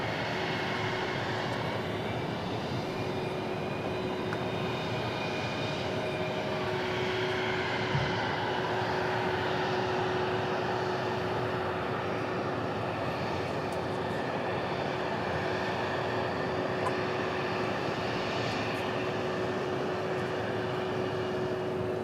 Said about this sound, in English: So our E175 taking off here to Torreon, Mexico.